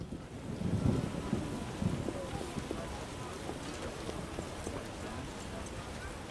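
Rain falls in The Witcher video game, a steady dense hiss of patter filling the scene throughout with a gusty, windy undertone.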